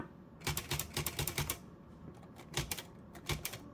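Manual typing on a Royal Superia typewriter with a faulty escapement, a quick run of about eight crisp key strikes followed by a pause and then three more separated clacks, close and fairly quiet, no voices.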